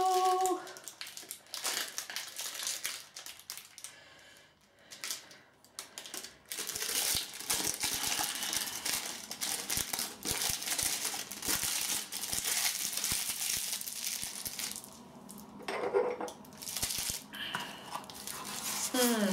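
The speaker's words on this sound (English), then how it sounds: "Crinkle, crinkle, crinkle." Crinkly plastic or paper wrapper being handled repeatedly during a wet shave with a Czech & Speake 88 soap, a Merkur Progress razor and an Oumo horse hair brush, steady crackling bursts close by over most of the stretch.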